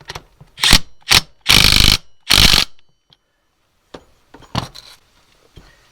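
Ratchet wrench tightening bolts on an R34 alternator bracket, several loud close bursts of rapid clicking ratchet strokes, then a pause and a few softer clicks and taps near the end.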